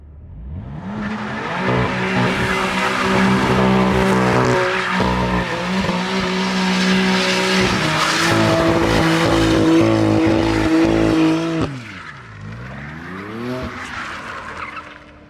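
A BMW M4 CS on Toyo R888R tires screeching hard, loud sustained tire squeal layered over a revving engine that rises and holds, then drops off and changes pitch as the car slides on.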